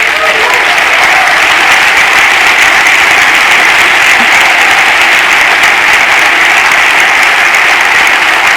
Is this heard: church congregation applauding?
yes